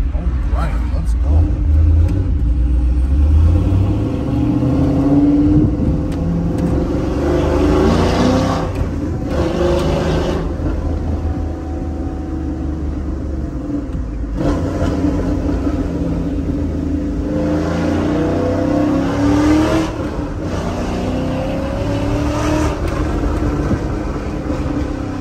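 A 1999–2006 GM Sierra/Silverado pickup's LS V8 engine rumbles and revs repeatedly through a Corvette-style exhaust, deep exhaust swelling and dropping across the clip, loud and close with a steady idle underneath.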